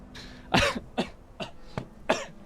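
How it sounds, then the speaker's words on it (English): Five or six sharp coughs into a microphone, loud and close, spaced unevenly and separated by brief pauses, with no talking. "Sorry, I coughed right into the microphone."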